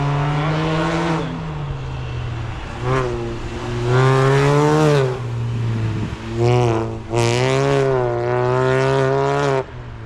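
A race car on an autocross practice lap, its engine loud and close, revving up and down through repeated gear changes with strong rising and falling harmonic tones and brief lifts between accelerations.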